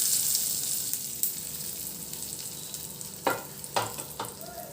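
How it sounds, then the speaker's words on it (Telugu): Mustard seeds, dried red chillies, curry leaves and asafoetida sizzle steadily in hot oil as a tempering for ridge gourd chutney, with a few sharp spoon-stirring clatters near the end. "పోపు వేగిపోయిందండి. ఇప్పుడు తిరగమాత వేసుకుందాం."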